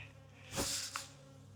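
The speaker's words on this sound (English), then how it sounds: "a storm of bees like this" Honey bees buzz around a spring beehive, a faint whine with one insect sweeping close by in a brief swell and a second short pass, over a quiet low hum.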